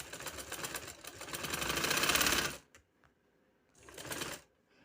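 A sewing machine stitches a lace border onto a sleeve in a rapid rattling run of about two and a half seconds, pauses, then gives a shorter second burst, close and clear.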